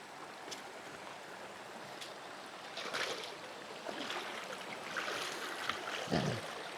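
Shallow, clear river water flows across a rocky river crossing near Talon Pari Falls in Bulacan, a soft continuous babble with faint splashes and light outdoor noise throughout.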